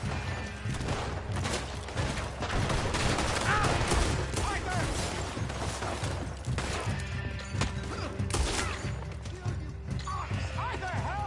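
Gunfire in Red Dead Redemption 2 crackles through a busy, chaotic scene, with repeated shots and crashes mixed among shouting voices and hoofbeats of horses.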